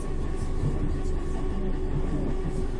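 A continuous low rumble and hum of a train arriving at a station, bound for Liverpool Central, with steady mechanical noise throughout.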